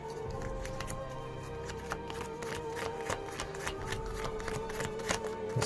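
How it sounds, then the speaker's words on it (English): Yu-Gi-Oh! cards are shuffled close up in a quick, steady rhythm of soft riffling slaps, continuous and fairly faint, with no talking. "Let's shuffle them up a little bit."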